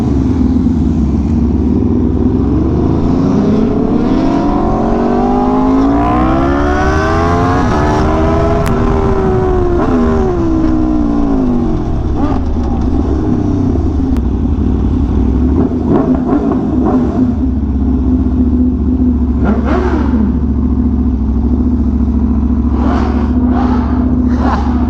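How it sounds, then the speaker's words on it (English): An Aprilia RSV4 Factory with a very loud aftermarket exhaust rumbles nearby, rising through a long swelling rev before settling back to a deep idle, with a few short blips afterward. "That exhaust is loud."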